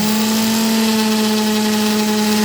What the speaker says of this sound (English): This sander enables me to feel the wood and know what I'm in for